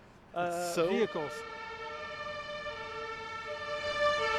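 A fire brigade siren wails through a Stockholm park in Södermalm, a loud tonal sweep that rises and falls before settling into a sustained steady note, sounding fairly close.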